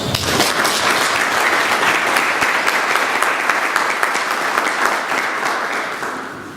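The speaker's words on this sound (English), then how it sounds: "Let's give them all a round of applause." A crowd at a community summit applauds its volunteers: a dense, loud wash of clapping starts abruptly and holds steady before gradually tapering off toward the end.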